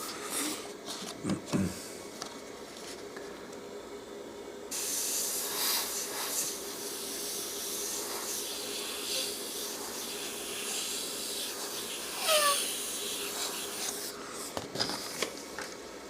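Airbrush hissing as it sprays paint across a monochrome portrait, a steady close airy spray running through most of the stretch with a few brief pauses and light handling clicks.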